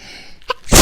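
A single sharp, loud sneeze bursts out at close range right at the end, after a quiet moment with a faint voice.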